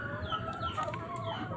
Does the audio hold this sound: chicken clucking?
yes